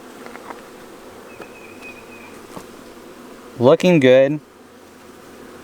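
Honey bees buzz in a steady low drone around an open poly hive, a continuous near hum running throughout, with a man's brief spoken remark rising over it near the end.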